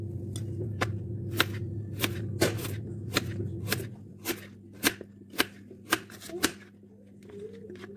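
A knife chops carrots sharply on a cutting board in a quick irregular series of crisp thuds, close up, with a low hum underneath that fades partway through.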